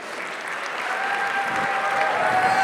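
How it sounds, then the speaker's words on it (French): Audience at a charity gala clapping together, a dense sustained applause that swells slightly and holds steady, heard from within the crowd. "On peut les applaudir."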